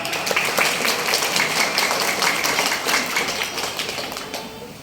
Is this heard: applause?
yes